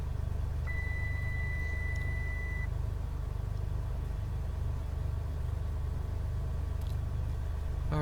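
Simulated Cessna 182 piston engine idling at about 1,000 rpm in a flight simulator, a steady low droning rumble, constant and unvarying, with a brief faint beep tone and small clicks over it.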